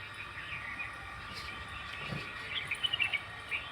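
Faint myna chatter with a few quick chirps near the end over a quiet outdoor background.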